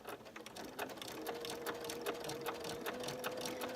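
A sewing machine stitches a quilt block for an Old Maid's Puzzle pattern, running steadily and close with a fast, even needle rhythm and a faint motor hum throughout, with no talking.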